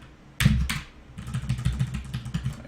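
Clicky computer keyboard typing on a desk, a quick burst of close keystrokes followed by a steadier run of taps, moderately loud with no talking over it.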